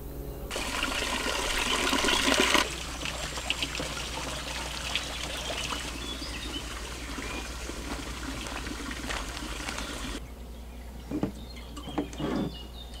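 Fresh spring water pours steadily into a container outdoors, a close, continuous gushing trickle that stops after about ten seconds, followed by a few faint handling knocks.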